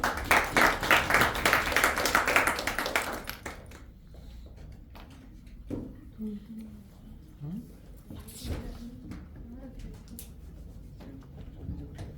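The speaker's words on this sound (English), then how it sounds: "Please give her a round of applause." A meeting audience claps for the table topics master at a speaking club gathering, a short burst of many hands that fades after a few seconds, leaving quiet room noise, small knocks and shuffles.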